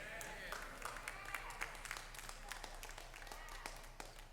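Sparse, faint clapping from a church audience during a sermon, thin and scattered rather than full applause, with a low steady hum underneath and a preacher's voice faintly present.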